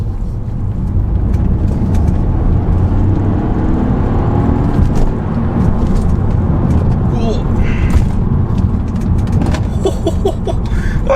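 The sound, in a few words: BMW 1 Series 1.5 car accelerating hard through village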